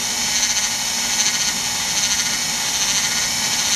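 A Wheel Horse tractor transmission runs in third gear, giving off a steady, loud mechanical whine with a faint flutter, close by and unbroken, with no one talking.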